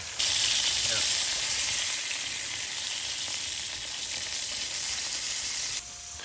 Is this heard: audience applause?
no